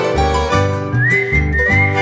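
A melodic whistled line rides over a Paraguayan song, the clear tune gliding along above rhythmic strummed accompaniment and bass.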